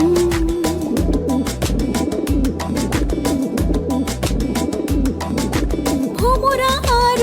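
A pigeon coos in soft repeated phrases over a steady beat of background music, with a brief rising bird call near the end.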